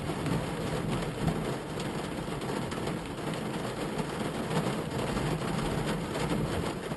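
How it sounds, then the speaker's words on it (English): Steady heavy rain pours during a thunderstorm at Crystal Lake in drought-stricken California, a dense continuous hiss with low rumbling underneath, alone and unbroken. "It's raining like this right now."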